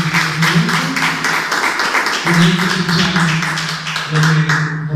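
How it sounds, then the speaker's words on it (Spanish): An audience applauds a professor at an academic lecture, steady dense clapping that fills the room at moderate loudness, with a faint voice underneath. "Un aplauso para el profesor Sigifredo"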